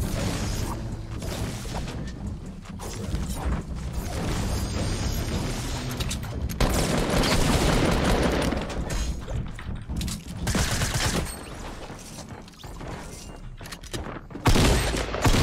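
Rapid bursts of gunfire from a Fortnite battle royale match, loud and dense throughout, with repeated shots, booms and mechanical clatter layered under game music and effects, and no talking.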